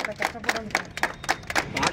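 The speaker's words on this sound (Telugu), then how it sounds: "చప్పట్లో" Audience clapping at an Independence Day celebration, a rhythmic series of roughly eight sharp claps in unison, close and fairly loud, with voices murmuring underneath.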